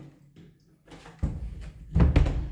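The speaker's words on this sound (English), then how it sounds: "this door, sounding like the goddamn second coming of the devil, should not be how a door should close" An apartment door swings shut with a loud, heavy closing thud and rattle, preceded by softer handling noises and followed by a second booming impact, close and alone.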